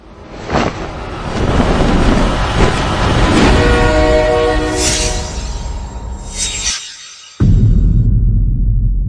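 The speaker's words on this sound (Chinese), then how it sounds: "用火车。" A train runs loudly and close by, its rumbling wheels and clatter rising into a long, sustained horn blast before the sound cuts briefly and the heavy rolling noise returns.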